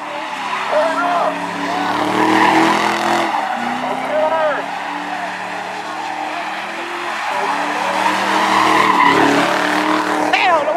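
Toyota car driving and skidding in GTA 5, tires squealing in repeated bursts over a loud engine, with voices talking throughout.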